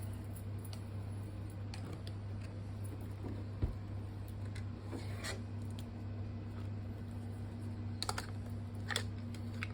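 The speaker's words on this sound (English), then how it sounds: "We'll unwrap some of these new Western Digital drives." Packaging being unwrapped from new Western Digital hard drives, soft close rustling and crinkling with a few sharper crackles over a steady low electrical hum.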